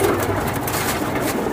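Giribaz pigeons kept for sale coo continuously in a dense, low murmuring chorus that blends into a steady wash of background noise, with no single call standing out.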